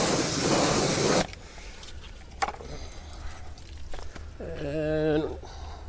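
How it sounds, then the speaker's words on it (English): A pressure washer blasts the wheels of a C8 Corvette 70th Anniversary Edition with a loud, close, broadband spray for about a second, then cuts off, leaving quieter handling noises and a brief tonal whine near the end. "So you're starting off with the wheels with the pressure washer, right?"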